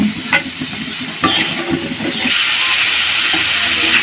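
Sweet pumpkin pieces added to a hot pan, frying with a bright steady sizzle that grows louder and denser after a few scattered drops and stirs, close and alone.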